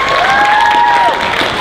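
An audience at the opening ceremony of the Blerdcon 2019 convention claps in dense, steady applause, with a long, high cheering voice ringing over the crowd.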